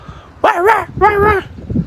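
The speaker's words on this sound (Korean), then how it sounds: "여기 옆에는 여기 항상 강아지들이 짖는데요" Dogs kept next door bark twice, close and loud, each a drawn-out, wavering howl-like bark with a short pause between, followed by faint low sounds.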